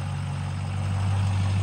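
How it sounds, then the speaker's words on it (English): A noisy truck engine idles nearby with a steady low rumble that holds constant and swells slightly toward the end, with no voices. "Noisy truck"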